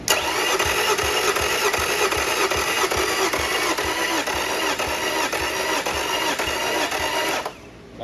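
A Yamaha 50HP outboard motor is cranked on battery power. The starter turns over rapidly and steadily for about seven seconds, loud and near, then stops without the engine catching.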